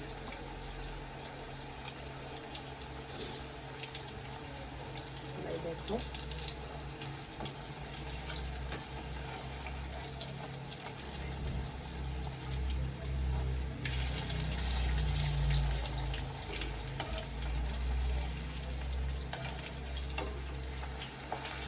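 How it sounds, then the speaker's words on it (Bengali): Curry leaf pakoras deep-frying in hot oil, a steady dense sizzle and bubbling that swells in the second half, close by, with a single brief spoken word near the start. "দেখো পকোড়াটা ভাজা চলছে।"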